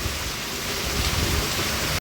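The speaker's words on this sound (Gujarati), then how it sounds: "તમે જુઓ વરસાદ કેટલો પડે છે" Heavy rain falls in a village as a dense, even hiss of water on surfaces, loud and close with no voices, before it cuts off abruptly.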